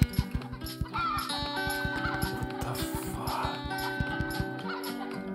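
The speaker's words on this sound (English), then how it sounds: "tap the button to make chickens" Cartoonish chicken clucks from the mobile game Egg, Inc., rapid repeated pops and clucks as the button is tapped, layered over game music, with a voice speaking briefly.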